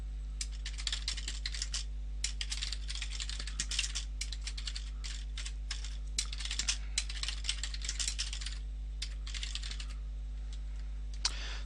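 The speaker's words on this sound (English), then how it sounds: "I've started by typing a pair of triple quotes into Python" Steady typing on a computer keyboard while writing Python code, with a continuous patter of key clicks in quick bursts and brief pauses over a low constant hum.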